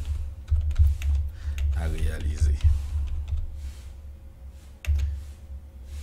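Soft keyboard typing sits in a quiet room with a low steady hum, and a few taps and clicks are scattered through the clip. A person speaks briefly partway through.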